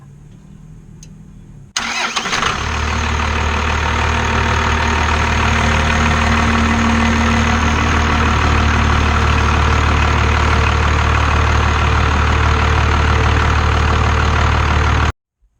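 A 1994 Dodge 3500 with a Cummins 5.9 turbo diesel cranks briefly and fires up, then settles into a loud, steady, close rumbling idle until it cuts off abruptly near the end, with no talk.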